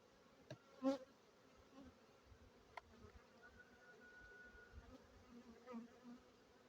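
Honeybees buzz inside a hive whose colony is due to be split, a faint, steady drone with a few louder passing buzzes and small clicks, no talking.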